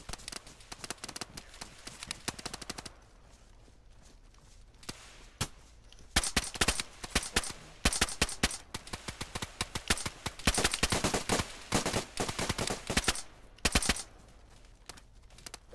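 Rapid bursts of video game gunfire crackle in dense volleys, near and loud, with quieter gaps between clusters of shots.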